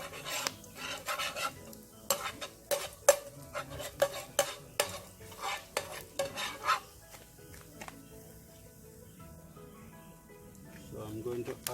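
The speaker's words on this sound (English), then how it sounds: "I'm just sauteing the garlic for about 1 minute" Garlic sautéing in hot oil with a gentle sizzle beneath repeated rapid spoon scrapes and clinks against the pot, busy for several seconds before settling into quieter frying.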